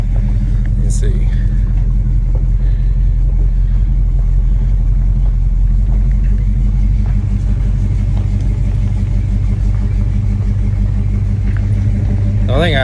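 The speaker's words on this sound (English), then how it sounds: "We're gonna go ahead and take it for its first drive since getting it back together" Big block Monte Carlo rumbling on a first drive after being rebuilt, a steady deep engine drone with low throbbing exhaust throughout, heard from inside or close by.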